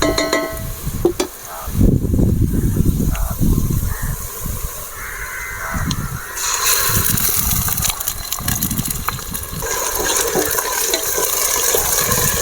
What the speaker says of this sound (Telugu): ఇప్పుడు దీంట్లోకి అల్లం వెల్లుల్లి పేస్ట్ వేస్తున్నా